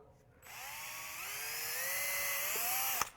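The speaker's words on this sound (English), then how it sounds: "I'm going to take my drill, put a 1/8 hole" A drill spins up and runs steadily, boring a 1/8-inch hole in a 1/5th-scale racing tire, its motor pitch slowly rising as it bores through, ending with a sharp click.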